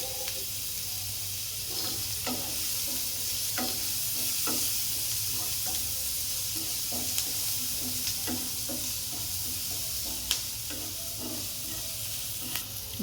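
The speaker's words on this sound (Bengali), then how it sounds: "পিৎজা সস বানানোর জন্য হালকা করে একটু সাদা তেল দিলাম, দেওয়ার পর পেঁয়াজ কুচি দিয়ে ওটা হালকা একটু ফ্রাই করে" Chopped onion frying in white oil for pizza sauce hisses with a steady sizzle, punctuated by regular spatula scrapes and taps against the pan, close and without talk.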